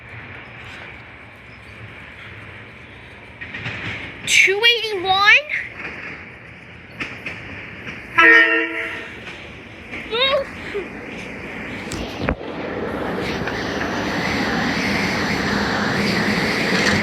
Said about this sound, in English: And he's coming in. Silverliner 4's leading. Silverliner 4 rail cars.